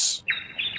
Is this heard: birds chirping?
yes